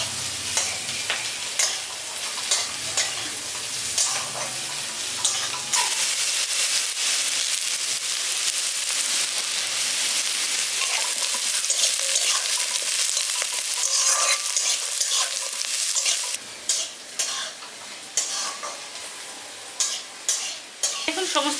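Vegetables for dalia khichdi fry in a pan, an intense close sizzle with frequent scraping and clinking stirs throughout, easing slightly toward the end.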